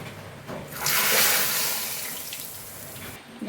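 Liquid pours into a pot while cooking horse gram rasam, a steady splashing gush that swells after a brief start, holds for a couple of seconds, then tapers off near the end, fairly close and with no talking.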